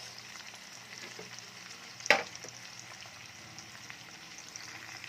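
Chayote sautéing with ground meat in a pan, a steady soft frying sizzle with one sharp spoon knock as it is stirred, close but quiet.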